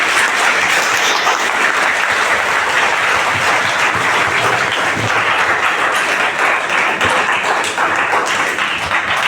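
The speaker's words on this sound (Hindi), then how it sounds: "जोरदार तालियां।" Sustained, loud clapping from a big audience at a political public meeting, a thick steady wash of hand claps that carries on evenly without pause and without any voices on top.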